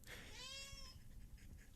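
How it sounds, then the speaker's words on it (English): A hungry pet cat meows once, close and fairly loud, a drawn-out rising-then-falling cry over faint room noise, followed by quieter background sounds. "I'm grateful for my cat, who's hungry right now"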